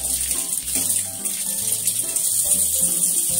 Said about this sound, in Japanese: みょうがを洗います。